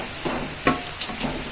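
Rice and lentils being sautéed with vegetables in a pot for khichuri, soft sizzling with a few scraping stirs of a spoon against the pot.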